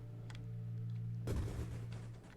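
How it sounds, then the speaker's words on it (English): A grenade weapon detonates in the space shooter Nova Drift, one big sudden burst about midway followed by a scatter of smaller residual pops, heard over a steady low game hum. "Grenade, you get the big initial explosion and then a bunch of residuals afterwards that do less damage than the big one"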